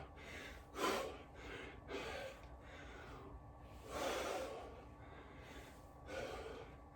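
Heavy breaths come during kettlebell high pulls, four strong gasping exhalations at a steady interval of roughly two seconds, close and alone without talk.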